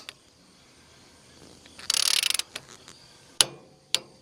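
A ratchet on a Mechmaxx 36 sawmill tensioning the band blade: a quick run of sharp, close clicks lasting about half a second, then two louder single clicks a moment later, with quiet between them.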